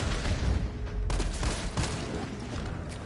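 Pistol shots in Resident Evil 3 Remake fire as a rapid burst of sharp, loud bangs against a rumbling game background, with no talk over them.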